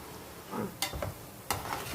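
Raw banana pieces frying in a pan with onions, a soft steady sizzle broken by two sharp scraping stirs close by.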